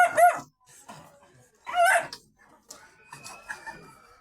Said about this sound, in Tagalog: dami ng mga manok ko